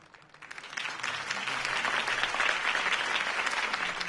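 Crowd applause in the video game Batman: The Telltale Series swells up from quiet and holds as a dense, steady wash of clapping from many people.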